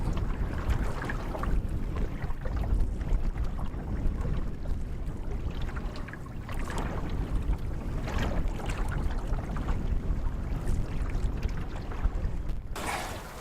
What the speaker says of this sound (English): it sure is windy on the east end of this lake